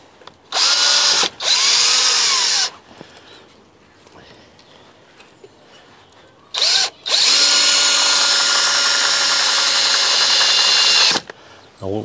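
A power drill driving a big 4-inch screw, two short bursts of loud whirring, a quiet pause, then two more runs with the last one long and sustained, close by.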